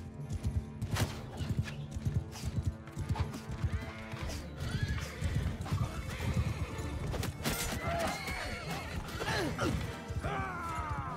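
Horses neigh and gallop across a battle in Mount & Blade II: Bannerlord, with repeated loud whinnies over dense drumming hooves, clashing impacts and general combat din filling the whole stretch.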